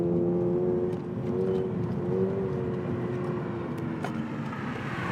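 A 2023 Subaru BRZ heard from inside while driving, with a steady engine drone and road roar and some faint whirring tones rising and falling, continuous and fairly loud with no talk.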